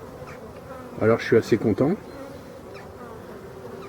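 Honeybees swarming a busy apiary hive in Brittany hum steadily in the background while someone speaks briefly over the buzzing.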